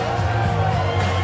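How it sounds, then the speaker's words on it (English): A Liverpool crowd at a GCW wrestling show sings and cheers as a team heads to the ring, a dense, steady roar of many voices filling the space throughout. "As the Liverpool crowd sings out, CPF are on the way to the ring."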